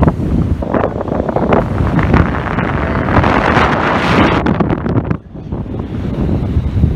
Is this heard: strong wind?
yes